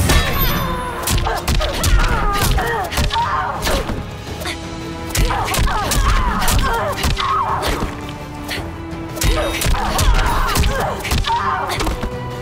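Rapid punches, kicks and body slams in the Mortal Kombat 11 fighting game between Sonya Blade and Jade, dense thuds and whacks in quick bursts, with fighter grunts and game sound effects throughout.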